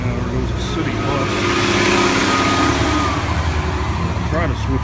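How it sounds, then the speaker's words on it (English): A city bus passes on a street near the main campus of Ohio State University in early evening, a steady loud engine rumble swelling and fading over about five seconds, with someone talking over it. "Now there goes a city bus."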